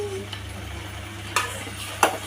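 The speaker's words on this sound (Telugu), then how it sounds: "ఈ జింజర్ గార్లిక్ పేస్ట్ని పచ్చివాసన పోయేదాకా వేయించుకోవాలి." Ginger garlic paste frying in a pan for street-style gobi manchurian, a low steady sizzle broken by two sharp scrapes of a spatula stirring the paste.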